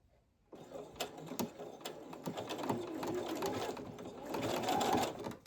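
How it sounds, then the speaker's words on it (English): A sewing machine stitches stretchy jersey fabric in a steady close-up rattle, starting after a brief pause and running continuously with slight speed changes, with a few faint clicks along the way. "I'm sewing here and here."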